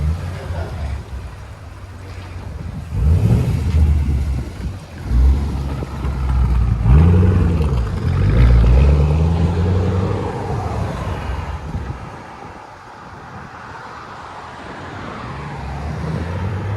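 Chevy Camaro SS with a 6.2L V8 and aftermarket exhaust (Flowmaster Outlaw, Borla ATAK or straight pipes) rumbles loudly, rising and falling through several revs and swells, with faint talk in the background.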